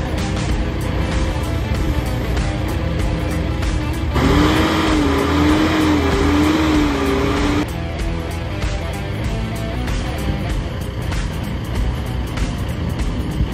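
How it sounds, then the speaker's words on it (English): Gehl RSB-42 telehandler with a 4x4 drivetrain and a diesel engine runs steadily up close, a loud continuous engine drone with a rising and falling whine in the middle as it operates. "With a diesel engine and a 4x4 drivetrain, this beauty runs and operates wonderfully."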